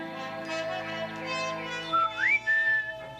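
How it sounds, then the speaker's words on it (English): A bright whistled tune from the Grinch in a narrated Dr. Seuss story: sliding, rising notes with a steady tone, heard clearly on its own for about three seconds with no talking. "Even the Grinch woke up whistling."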